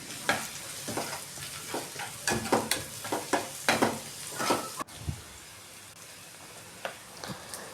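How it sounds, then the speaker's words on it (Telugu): Onions frying in a pan with turmeric, a close crackling sizzle broken by repeated scraping stir strokes during the first half, then settling into a quieter sizzle with occasional clinks. "సో ఇక్కడ ఆనియన్స్ ఫ్రై అవుతున్నాయి"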